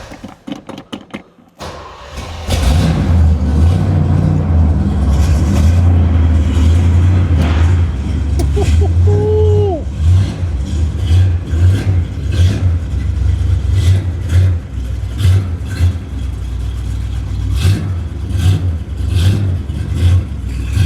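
Classic car engine, the kind found among 409 Impalas and Corvettes, starts with a sharp catch and then rumbles and revs steadily during a ride, loud and close with a deep low drone.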